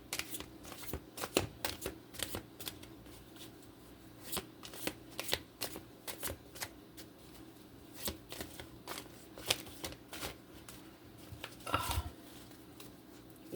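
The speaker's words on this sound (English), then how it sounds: "these cards are shuffling really messily" Tarot cards being shuffled by hand, a fairly quiet series of irregular riffling and slapping bursts that repeat messily throughout, with no talk.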